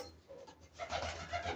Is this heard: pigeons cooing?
yes